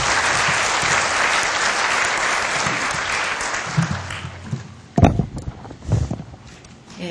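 Lecture audience at a university special lecture breaking into sustained applause, a thick continuous roar of clapping for about four seconds that then thins into scattered individual claps and shuffling noises in a large hall.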